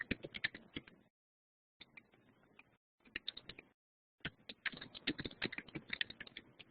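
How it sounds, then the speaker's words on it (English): Faint computer keyboard typing comes through an open microphone during an online education conference, irregular clusters of quick key clicks separated by brief silent gaps. "And Ed, I think we hear you typing still, so you may want to turn your mic off."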